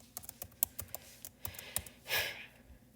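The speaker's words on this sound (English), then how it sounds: "And I just type it" Quick bursts of computer keyboard typing, close and crisp, with irregular key clicks and a brief breathy exhale near the end.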